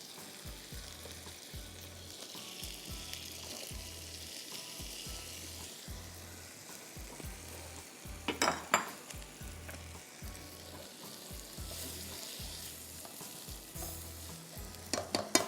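A medium-sized potato cooks in a pot with a continuous soft sizzle, broken by regular low scraping thumps of stirring and a couple of brief clinks.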